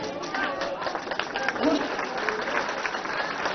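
Dense, sustained applause from a crowd at a Marathi community gathering meeting the Chief Minister on Gudi Padwa, with a voice audible over the steady clapping.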